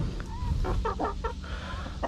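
Several roosters kept as backyard farm birds, including White Sussex and Rhode Island Red, give a run of short clucking bursts at close range over steady background noise, with no talk.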